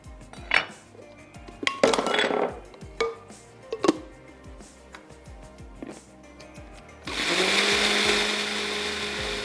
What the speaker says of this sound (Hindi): और इन स्लाइसेस को भी हम अच्छा सा पीस लेते हैं।